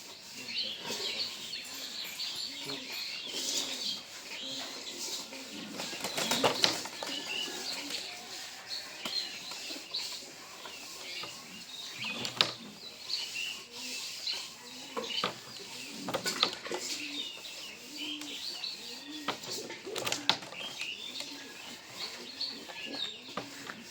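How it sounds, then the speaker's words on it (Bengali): Pigeons being loaded into a basket coo softly and chirp close by, broken by several sharp bursts of wing flapping, over a busy background with faint distant voices. "সবগুলো কবুতর এখন বাস্কেটিং হচ্ছে"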